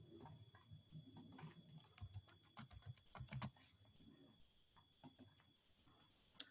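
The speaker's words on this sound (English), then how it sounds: "I'm typing in the example." Quiet, irregular tapping of fingers on a computer keyboard, scattered clusters of key clicks with short pauses and a faint steady electronic whine underneath.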